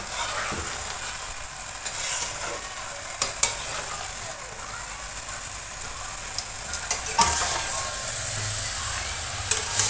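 Mango jelly is stirred in a hot cooking pan with a spatula, giving steady scraping and sizzling with occasional sharp clinks and taps against the pan, close and fairly loud with no voices.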